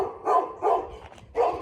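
Dogs in a Greek village barking three times at a moderate distance, short bow-wow bursts spaced about half a second to a second apart, with quieter yips between.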